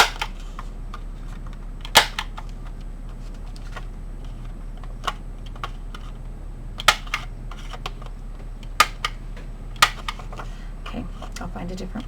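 A corner punch cutting the corners of paper for a card project gives sharp, close clicks and snaps, about half a dozen spaced irregularly over a quiet background.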